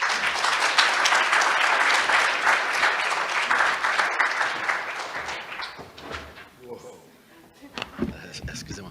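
Audience applause at a Quebec conference on youth mental health during the pandemic, loud and full at first, then thinning out and fading into scattered claps and small knocks.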